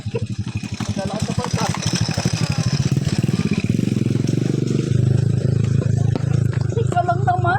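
Motorcycle engines on a mountain trail on Mt. Parawagan, a steady low clattering rumble close by and loud throughout, with people talking over it.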